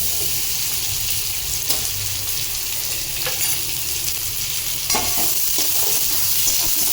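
Chopped onions hit a hot pan for a chicken curry and give a loud, continuous hiss of sizzling, with a few scraping stirs and small clatters of utensils over it.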